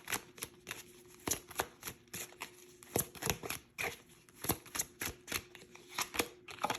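Tarot cards being shuffled by hand, a long run of crisp, rapid riffles and slaps in uneven bursts, close and fairly quiet, with no talking over them.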